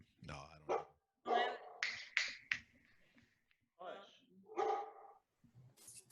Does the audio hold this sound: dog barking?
yes